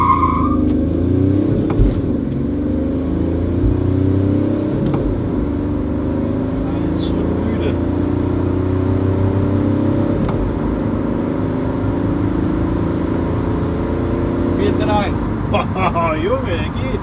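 Chip-tuned diesel car pulling away from a standing start, its engine note rising steadily and loud throughout, with people talking over it.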